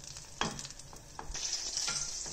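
Cheese sauce being stirred in a pan for cauliflower cheese, with scraping strokes and soft bubbling over a steady low hiss, close and alone with no talk.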